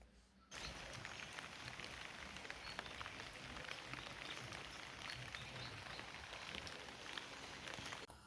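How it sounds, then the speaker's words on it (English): Steady rain falls continuously in the Kenyan countryside, a dense even hiss of drops on surfaces, starting abruptly and holding at a constant level with no voices. "because it's still raining outside"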